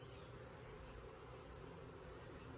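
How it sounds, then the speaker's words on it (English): Honeybees around a nuc box hum in a continuous, soft, even buzz of many wings close by, with no other sound. "these bees are so docile"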